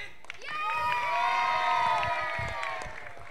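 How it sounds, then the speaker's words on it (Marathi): A crowd cheers and claps at a prize ceremony for a monsoon football tournament, a sustained, swelling vocal cheer lasting about three seconds before easing off. "खूप जोरदार टाळ्या झाल्या पाहिजेत"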